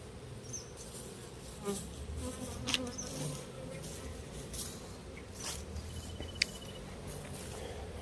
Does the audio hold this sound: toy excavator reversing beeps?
no